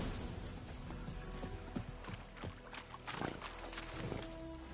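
Horse hooves clip-clop steadily on the ground in the Witcher 3 video game, a faint rhythmic trot under low ambient noise.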